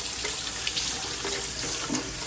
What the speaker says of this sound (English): I'm gonna stuff this pineapple with the rice. Okay, so I'm gonna wash it.